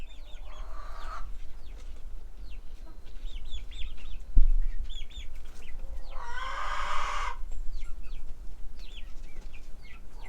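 Sussex chickens cluck in a farmyard, with short repeated calls scattered throughout and a couple of louder squawking bursts, over a steady low rumble of background noise.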